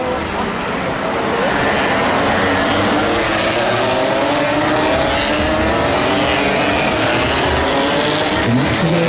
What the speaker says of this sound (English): I think we've got someone with a possible noisy exhaust as well.